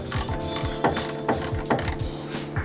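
Ratchet clicks repeatedly in short bursts while tightening radiator bolts on a 2008 Kia Sportage, a close, crisp mechanical pawl rattle with no talk.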